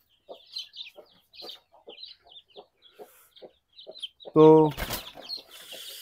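Chicks peep in quick, repeated high chirps while hens cluck nearby; a louder, harsher bird call breaks through near the end, and a voice speaks briefly.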